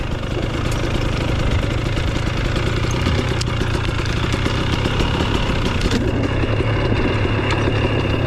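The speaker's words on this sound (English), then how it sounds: "I want you guys to pay attention to the idle on this bike." A Husqvarna TX300 TBI two-stroke dirt bike engine idles steadily and close by, a continuous even rumble that holds constant throughout with no revving and no talking.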